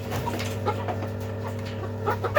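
Chickens and a rooster of the Birkivska Barvysta breed, about four and a half months old, cluck softly and intermittently nearby over a steady low mechanical hum, with no talking.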